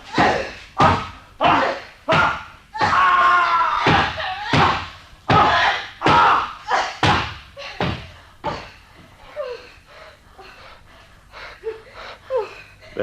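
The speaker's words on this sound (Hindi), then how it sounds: "चल, दोनों जोर लगाकर देखें, शायद दरवाजा ही खुल जाए" Two people throw themselves against a locked door in a radio play, making a long series of heavy, rhythmic thuds and slams mixed with their gasps and strained breathing, fading into lighter knocks toward the end.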